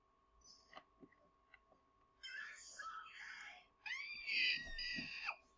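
A person screams instead of saying a logo line: a few short vocal sounds, then two long, shrill, strained screams, the second louder and closer.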